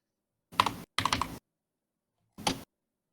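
Short bursts of computer keyboard typing, two quick clusters of keystrokes close together and then a third brief burst after a pause, crisp and near against silence.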